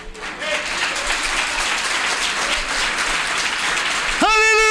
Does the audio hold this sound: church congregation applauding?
yes